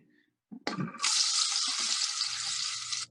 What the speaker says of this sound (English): you don't want to hear a loud sound with everything sizzling because you're going to burn your mirepoix